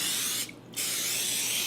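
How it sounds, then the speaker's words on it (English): Cooking spray is sprayed onto a baking dish for bread pudding, a loud continuous hiss that breaks briefly in the middle and then resumes, with no talking. "We're going to spray this good."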